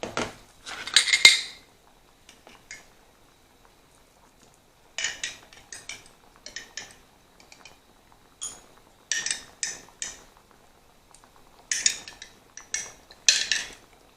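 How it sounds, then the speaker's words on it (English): Meatballs being added to cooked pasta in a pot, with metal utensils clinking and scraping in short bursts, several clusters of sharp taps separated by quiet pauses, no talking. "Let's actually add the meatballs now."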